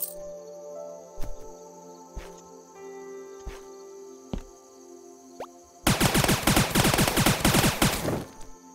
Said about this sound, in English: Yeah, these dual machine pistols are pretty good.